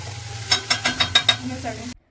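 Spices for Maggi noodles sizzle in hot oil in a wok, heard as a run of about six rhythmic scraping stirs over a soft frying hiss before the sound cuts off abruptly.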